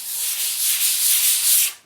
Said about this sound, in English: let's not bore you with sanding a wall down.